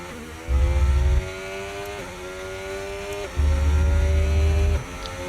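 The engine of a Formula 1 car in the F1 25 video game screams at full throttle, its pitch climbing and resetting through repeated upshifts, with heavy low rumbling bursts underneath.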